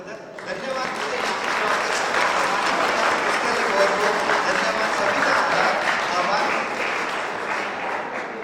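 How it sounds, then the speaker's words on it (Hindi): An audience at a community talent awards ceremony applauds a speaker with loud, sustained clapping that fills the hall for several seconds without letting up. "जोरदार तालियों की गड़गड़ाहट से विजय कुमार जी का स्वागत।"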